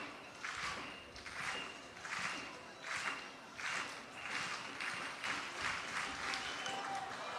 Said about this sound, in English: Starts up a clap. The whole stadium get behind him.